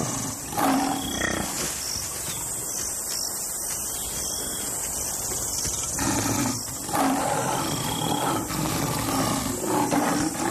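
African lions roaring in the wild while a herd of African buffalo harasses and hunts them, with deep repeated roars carrying over a constant noisy outdoor background.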